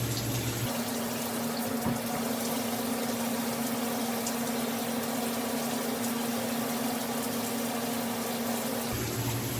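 Water squeezed by hand out of freshly washed short braidlocs, a steady wet hiss and trickle that runs evenly under a low constant hum, close and moderately quiet.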